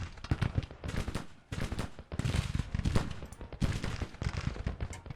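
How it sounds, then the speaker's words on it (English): In the video game Grand Tactician: The Civil War, massed musket fire and cannons crackle in dense, rolling volleys at close range. The bursts come in several rapid clusters at moderate loudness, with no speech. "Are the cannons firing? Oh, they do, and it seems like they're in close range."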